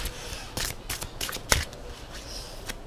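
A deck of oracle cards is shuffled by hand, producing several quick, close riffling bursts and soft slaps in an irregular rhythm with no talking.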